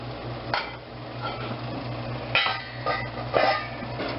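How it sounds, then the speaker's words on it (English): Sugar being stirred into a pot of simmering pickling liquid for beets, with a few sharp spoon clinks and scrapes against the pot over steady low kitchen hum, no talking. "And we're going to stir this to incorporate the sugar."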